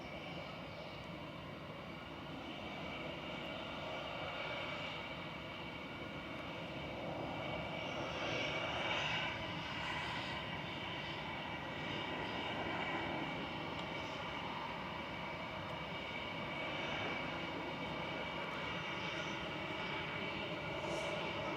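An EasyJet airliner arriving from Reus on approach to Manchester Airport over Cheadle, its engine roar building slowly and broadly from a distance and then holding at a steady level with tonal whine, no one speaking over it.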